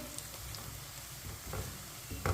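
Whole cumin and coriander seeds sizzle in hot oil in a pan, a soft steady crackling fry close by with a few light stirring scrapes, no talk.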